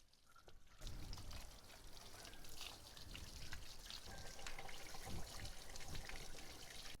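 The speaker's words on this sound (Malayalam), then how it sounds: "ഇതുപോലെ വെള്ളം എടുത്ത് വാഷ് ചെയ്യുക." Water splashes and trickles steadily over a motorcycle chain during a wash, a continuous pouring, dribbling wash that starts abruptly after a brief quiet moment and stays fairly loud and close throughout.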